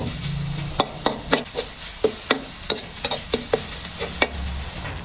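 Garlic stir-fried in a small amount of oil in a pan, a steady low sizzle punctuated by a dozen sharp scraping knocks of the spatula at an uneven rhythm, close and clear with no talking.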